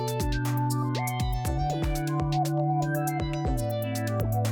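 Synthesizer arpeggiator playing a randomized melody from the start of a chord change, rapid plucked notes skipping over sustained chord tones that shift twice, clear and continuous.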